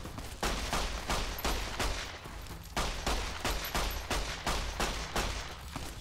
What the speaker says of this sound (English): I'm shooting at her.